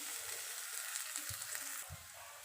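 Ground paste of garlic, ginger, dried red chili, cumin and pepper sizzles and fries in a pan, a steady hiss with a few soft stirring scrapes, alone and close.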